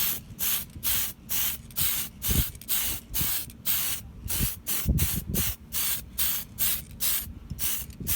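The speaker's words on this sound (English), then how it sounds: "If you spray too much, it's gonna bleed and drip, and then it will not look good." Repeated short bursts of aerosol spray paint onto an RC car body, about a dozen hissing pulses in a steady rhythm, close and fairly loud, with no talking.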